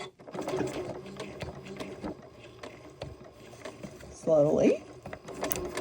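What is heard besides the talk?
Janome sewing machine stitching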